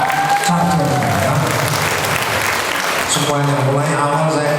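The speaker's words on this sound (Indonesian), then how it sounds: "Ini tepuk tangan untuk panitia semuanya ya." An audience at a neighbourhood religious gathering claps throughout, a steady spread of applause under someone speaking loudly into an amplified microphone.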